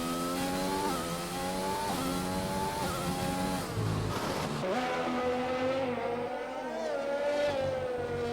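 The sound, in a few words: Formula 1 race car braking and accelerating in an Xbox racing video game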